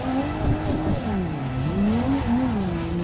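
A car drifting in the racing simulator Assetto Corsa, with the engine wailing and rising and falling in pitch as it holds a slide, plus a steady tire scrub, loud and continuous.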